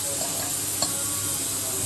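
Vegetables simmer in a pot with salt and tamarind on a home stove, giving a steady, close bubbling hiss throughout with no talking.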